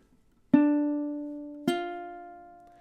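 Ukulele playing measure 19 of a song: two bright plucked chords, the first struck at half a second and the second about a second later, each left to ring and slowly fade, close and unaccompanied.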